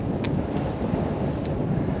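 Wind buffets the microphone while cycling on a smooth gravel road in the Ochil Hills, a loud, steady low roar with no other sounds standing out.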